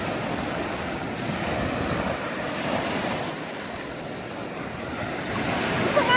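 Black Sea waves wash onto a beach in the Odesa region with a continuous rushing surf and some wind noise, swelling slightly near the end, with no voices.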